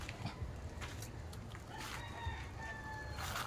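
Chickens cluck and call close by, with a rooster-like crow woven into a steady rustling farmyard background; no talking.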